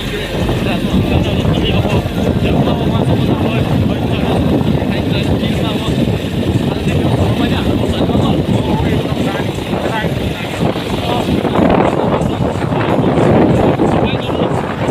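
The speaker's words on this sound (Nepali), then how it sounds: "म चाहिँ यतिकै बाइकमा हिँडिरहेको छु" A motorcycle engine drones steadily during a ride, mixed with constant wind rush and occasional voices.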